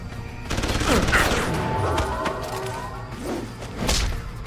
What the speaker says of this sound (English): Sounds like I need suppression fire!